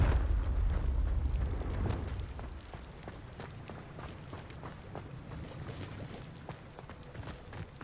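A deep eruptive boom from the Confringo fire spell in Hogwarts Legacy opens loudly, then trails off into softer crackling and rumbling debris.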